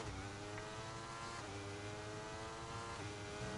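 McLaren race car on a lap in a racing game, its engine holding a steady, high, buzzing rev through a continuous run, fairly faint and without talk.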